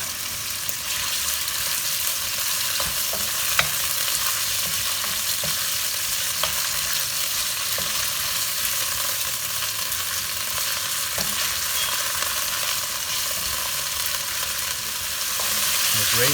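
Beef strips for a broccoli and turmeric stir-fry sizzle in a pan over very high heat, a loud, steady hiss with occasional scrapes and clicks as the meat is stirred.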